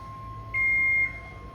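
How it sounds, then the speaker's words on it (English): A single electronic store beep sounds inside a Lowe's for about half a second over a low background hum, clear and fairly close. "Always beeping. Beeping in Home Depot and beeping in Lowe's."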